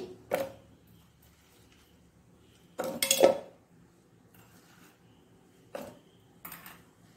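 A mixer jar being picked up and set down for grinding chopped cucumber, three or four separate clinks and knocks of metal and glassware with quiet pauses between.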